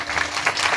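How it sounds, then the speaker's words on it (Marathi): A short, dense burst of audience applause during a Marathi devotional kirtan, loud and close, with many hands clapping together in a continuous rush. "जरा मधून अधून धर्मासाठी टाळ्या वाजवा"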